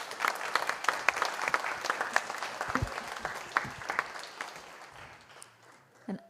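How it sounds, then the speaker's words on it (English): Audience applause at a symposium, a steady burst of clapping from a crowd that thins and fades toward the end. "Can we get one more round of applause for Ku?"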